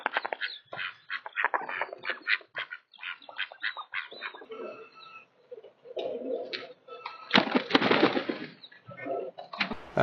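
Ducks visiting a narrowboat, recorded on a security system, quack and squawk in repeated bursts, several birds calling close by with a few louder, harsher outbursts toward the end.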